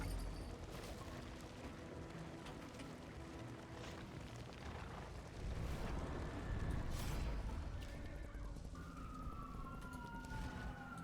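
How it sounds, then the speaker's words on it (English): Emergency siren wailing outside during video game commentary, its rising and falling tone drifting in from a distance beneath steady background noise. "Sorry for the siren."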